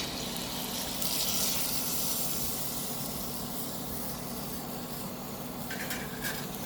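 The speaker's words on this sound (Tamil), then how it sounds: "புளி கரைசல் தேவையான அளவு எடுத்து நல்லா கரைச்சி ஊற்றிக்கலாம்" Tamarind solution pouring into a pan of sautéed vegetables for a Koduva fish curry, a continuous, steady liquid wash and rush with no talk.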